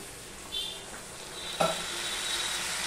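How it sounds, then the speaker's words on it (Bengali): Chopped tomato and a splash of water drop into a pan of frying small fish, a sharp splash followed by a steady, hissing sizzle up close. "এবারে যে টমেটোটা আমি কেটে রেখেছিলাম সেই টমেটোটা আমি দিয়ে দিলাম, সঙ্গে দিয়ে দিলাম একটুখানি জল।"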